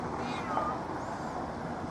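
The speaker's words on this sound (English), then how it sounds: "that is a fat black cat" A fat black cat on the streets of Edinburgh gives a soft, faint meow, partly buried under steady outdoor ambient noise.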